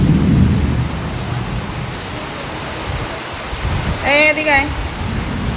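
Sudden heavy rain hisses steadily over a home kitchen area with a partly open roof, with a low thunder rumble at the start and a woman calling out briefly near the end.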